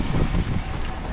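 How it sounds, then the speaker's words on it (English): Strong wind buffets the microphone outdoors beside flooded onion fields, a constant low rumbling roar with no pauses. "It's really windy."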